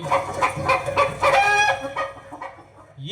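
Several Tiruchirappalli, Dindigul and Madurai breed chickens cluck and squawk in a busy, overlapping chorus nearby, with short bursts rising and falling over a few seconds.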